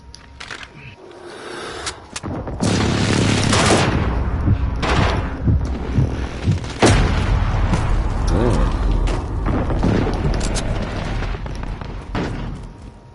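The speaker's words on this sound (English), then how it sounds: "Enemy precision airstrike." Heavy rolling blasts and rumbling booms of a precision airstrike in a military shooter game, a dense sustained barrage with sharp cracks and clattering mechanical noise over several seconds.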